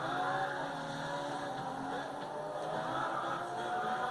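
A race car in the video game Grid 2 drones on at a sustained engine pitch with faint tire noise, continuous and moderately loud.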